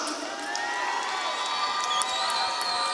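A boxing crowd at a fight night cheers and whoops steadily, with scattered shouts and a dense wash of noise that stays loud and constant throughout.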